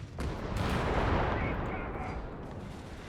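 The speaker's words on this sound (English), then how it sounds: "two flak panzers unleash all the barrels they have fury against them" Flak panzers in Company of Heroes 3 unloading their barrels together, a dense, roaring wall of rapid anti-aircraft fire and blasts, loud and sustained over three seconds.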